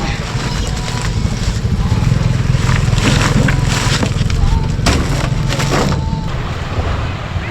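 A boat motor drones steadily and loudly throughout, with wind buffeting the microphone and water noise mixed in.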